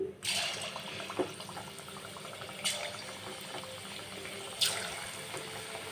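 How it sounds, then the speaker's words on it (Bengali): Chicken pakoras go into hot oil one at a time, giving a steady soft sizzle with a fresh bubbling surge each time a piece drops in, close by and with no talk. "দেখুন এবার একটা একটা করে দিয়ে ভেজে নিচ্ছি"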